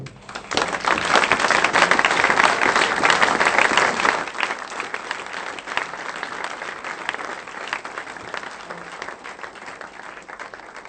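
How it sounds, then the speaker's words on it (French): A church congregation applauds with loud, sustained clapping that gradually tapers to softer scattered claps. "On va acclamer la parole de Dieu."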